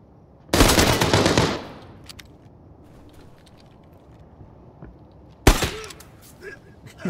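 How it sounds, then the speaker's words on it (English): Two bursts of suppressed gunfire in the shooter game Arena Breakout Infinite, a long rapid automatic volley followed by a shorter burst several seconds later, loud and close with a quieter ambient bed between. "The suppressed shot, you know, sound is just so good"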